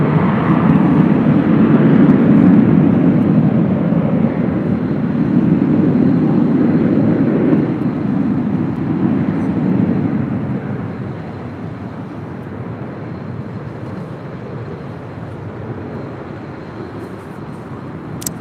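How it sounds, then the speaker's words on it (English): An EVA Air Boeing 777-300ER arriving from Taipei on runway 24 right at LAX, a loud, broad jet roar that slowly fades as the airliner passes. "EVA Air Flight 12 coming in from Taipei at 777-300ER"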